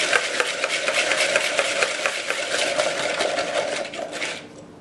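Whisk beating sugar, flour and egg into a pie filling, a rapid rhythmic scraping against the bowl, loud and close, that tapers off near the end.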